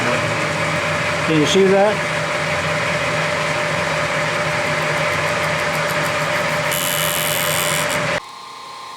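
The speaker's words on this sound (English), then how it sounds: "I'll turn the machine on and up it goes until I scratch the masking tape" A milling machine runs with a steady, even hum and whine while its table is raised toward a workpiece for cutting a gear, constant throughout before cutting off near the end; a person speaks briefly early on.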